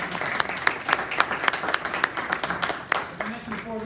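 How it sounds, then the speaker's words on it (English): An audience at a school board of education meeting applauding student storytellers, a brief burst of scattered clapping from a modest crowd in a room, with a speaking voice over it. "So round of applause for our storytellers and the fantastic."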